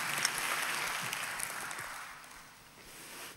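A church congregation applauds during a sermon, a fairly faint wash of clapping that thins out midway and then picks up slightly again.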